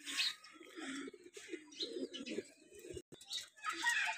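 Pigeons coo in a loft, low soft calls repeating through most of the stretch, with brighter chirps and wing or perch rustles mixed in and a brief quiet break near the end.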